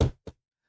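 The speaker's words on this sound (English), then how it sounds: "As long, knock on wood," Two quick knocks on wood, a sharp rap followed by a softer second one, close and isolated with silence after.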